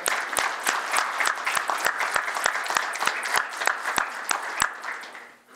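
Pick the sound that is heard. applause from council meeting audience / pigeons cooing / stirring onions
applause from council meeting audience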